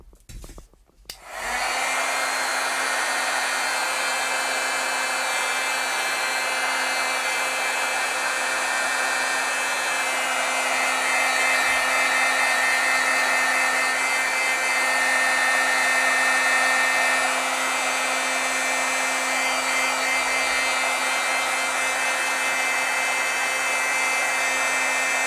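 A heat tool blows steadily over stamped ink on paper to heat set it, a loud, constant whirring hiss that runs unbroken for over twenty seconds after a brief start-up.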